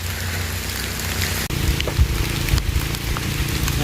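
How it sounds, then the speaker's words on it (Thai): Heavy rain falls in big drops outdoors in a rural area, a steady dense hiss with occasional louder thuds, continuous and fairly loud with no talking. "ฝนเริ่มตกเม็ดใหญ่ล่ะ"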